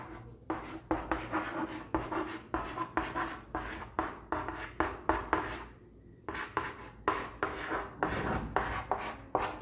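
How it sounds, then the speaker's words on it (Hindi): Writing on a board during a history lesson: a run of rapid, rhythmic scratching and rubbing strokes in short bursts with a brief pause midway, close and fairly clear, no talking. "मैं लिख देता हूँ"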